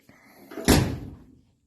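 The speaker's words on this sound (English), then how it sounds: "Like I said, doors close like shit." A door on a 1966 Chevrolet Nova shuts with one loud, close, solid slam that fades over about half a second, with faint movement noises before it.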